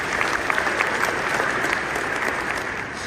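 A live podcast audience at the Squad Up Summit claps steadily for three seconds, a dense, even roar of many hands in a hall with no voices over it.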